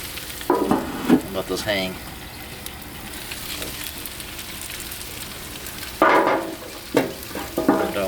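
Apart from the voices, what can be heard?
Mandarin voodoo pork tenderloin bites sizzling on a Blackstone griddle under a dome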